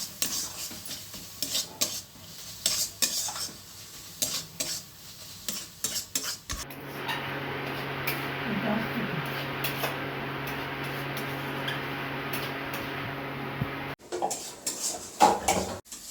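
Matar paneer is stirred in a cooking pan with a utensil, scraping and clinking against the metal over a steady sizzle, the stirring coming in repeated bursts with a brief pause near the end; no one speaks.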